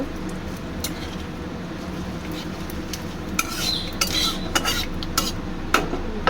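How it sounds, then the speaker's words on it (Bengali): A spoon stirs black cumin seeds tempering in hot oil for a vegetarian dhokar dalna, with soft scraping and a few sharp metal clinks against the pan over a steady low kitchen hum. "ফোড়নটা একটু নেড়ে ছেড়ে নেব"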